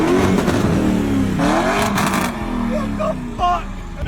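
A Mansory-modified Lamborghini Urus engine revs up and settles back close by, loud rising and falling harmonics, with a voice speaking over it.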